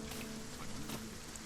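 Steady rain falls in the fantasy video game Dragon's Dogma 2, a dense, even patter on surfaces that holds at moderate loudness throughout.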